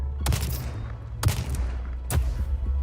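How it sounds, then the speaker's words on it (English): Three sharp explosive weapon blasts from a first-person shooter hit a distant target, each a loud boom with a rumbling tail, spaced about a second apart, with no speech. "Boom, we hit it. There's a little drop off, but then it has an explosion and it just deals damage around anybody"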